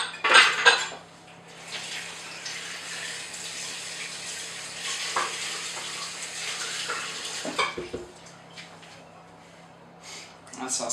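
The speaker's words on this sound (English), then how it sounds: "Mix it up." A spoon stirs vanilla cheesecake mix in a bowl, starting with a few sharp clinks against the bowl and then settling into a soft, continuous scraping swish, fairly quiet, with a voice faintly present.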